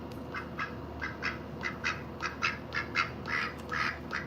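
A pet duck quacks while being fed lemon with seed, giving a run of about a dozen short, nasal quacks in a steady rhythm, moderately close over a quiet room background.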